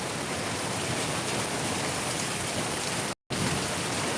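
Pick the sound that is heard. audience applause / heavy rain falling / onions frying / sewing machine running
heavy rain falling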